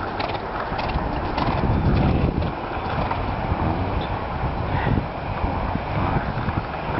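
Horse hooves thud and clatter on the ground in an uneven rhythm during a show jumping round, close by, with mechanical rattling and wind noise around them.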